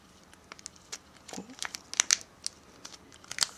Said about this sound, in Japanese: ここにセロテープで 巻き終わりがありますので、ここにテープをつけて、